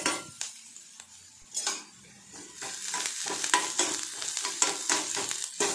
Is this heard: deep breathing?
no